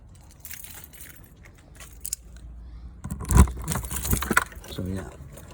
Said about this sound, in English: I'll just grab the keys.